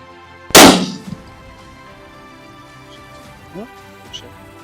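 A single loud rifle shot rings out close by while hunting on free-range land in KwaZulu-Natal, South Africa, followed by a short echo and then quiet rustling with a few faint clicks.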